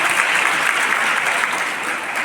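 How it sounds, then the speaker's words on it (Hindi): An audience in a college hall applauds together, a dense, steady wash of clapping that stays loud and even throughout without pause or voices standing out. "तो जैसे कि ताली बजाई"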